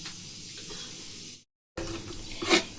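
Cumin and black cumin seeds sizzling in hot oil in a pan, a steady close frying hiss that cuts out briefly and returns louder with a sharp crackling flare near the end.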